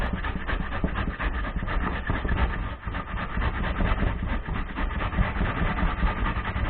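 Cabbage is grated on a grater for sauerkraut, making a continuous, close, rasping scrape with rapid repeated strokes that carries on without pause.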